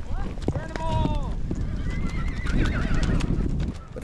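A colorful herd of paint horses being driven at speed like a cattle drive: repeated whinnies and neighs ring out over a constant rumble of galloping hooves, with people shouting and talking throughout.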